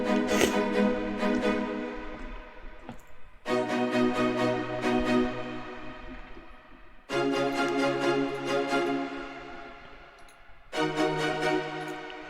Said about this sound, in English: So it's playing in my bass line, but it's playing the rhythm of the leads already.